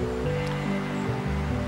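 Wind blowing across a fishing lake on an overcast day, a steady broadband rush close on the microphone with low buffeting rumble, continuous and without talk.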